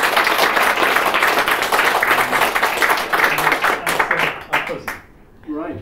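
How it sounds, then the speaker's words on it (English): An audience claps in a hall in a full round of applause, dense and loud, thinning out near the end, when a voice begins speaking as the clapping fades. "a quick round of applause if we may"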